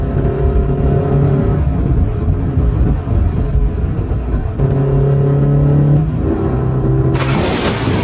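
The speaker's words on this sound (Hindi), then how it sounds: "तभी एक व्यापारी अपनी गाड़ी से गांव में आ जाता है।" A cartoon car sound effect: a loud, steady engine drone that swells as the vehicle drives into a village, followed by a brief hissing burst near the end.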